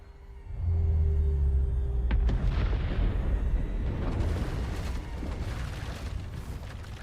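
A Bombarda explosion spell in Hogwarts Legacy goes off with a sharp crack and a deep booming blast that rolls into a long rumbling, debris-filled roar, loud and close with no talking.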